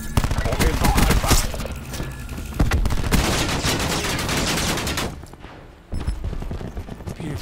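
Rapid gunfire and bullet bursts from the Black Ops 4 video game, dense volleys rattling continuously with a brief lull near the end before shooting resumes, mixed with game voices.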